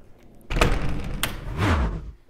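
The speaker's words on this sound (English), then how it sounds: "you just open the screen, wash them, and then lock them back up again" A security screen door on a home is opened and closed, giving a short sequence of loud thuds, rattles and a sliding scrape close to the microphone, with no talking.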